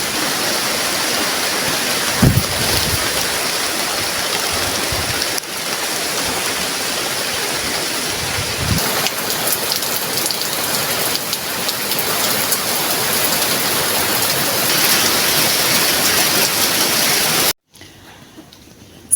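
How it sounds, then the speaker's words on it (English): Steady rain falls on a windy backyard garden, a dense, loud hiss of drops on surfaces that carries on throughout with a few thumps before cutting off near the end. "It's so windy. It started raining"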